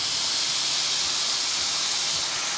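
Flank steak carne asada sizzles on a Ninja Foodi Pro XL grill just after flipping, a loud, continuous bright hiss with no break.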